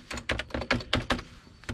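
Amiga 4000 keyboard keys pressed one after another, about eight distinct clacky keystrokes in an irregular rhythm, close and clear with no talking.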